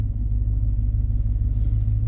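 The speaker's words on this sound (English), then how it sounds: "Okay, we'll back out of the driveway." A 2003 Toyota Tundra pickup truck backs out of a driveway, giving a steady low engine rumble close by with no talk.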